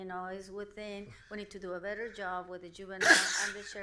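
A single sharp sneeze bursts out near the end, close and loud, cutting across a man's steady speech in a commissioners court meeting.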